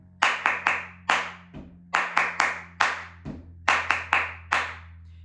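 Flamenco palmas claras: loud, sharp hand claps played alone in quick rhythmic bursts of three or four, with brief pauses between groups.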